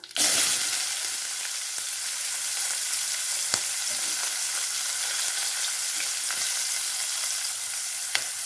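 Urad dal and chopped onion frying in oil in a kadai for a meal maker gravy, giving a constant bright sizzle close by, with occasional sharp spatula taps.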